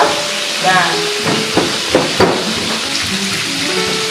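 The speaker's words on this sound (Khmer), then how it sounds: "នេះខ្ទឹមស ខ្ទឹមក្រហមនិងម្ទេសបែបហ្នឹងដែលខ្ញុំបុក" Garlic, shallots and chilies are pounded in a mortar with several distinct thuds, close by, over a background hiss. Someone talks between the strikes.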